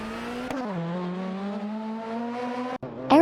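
Race cars in a racing video game, among them an Alfa Romeo 156 GTA and a Honda Accord, hold a steady, sustained engine drone that dips as one shifts, with a brief dropout and a sharp squeal near the end.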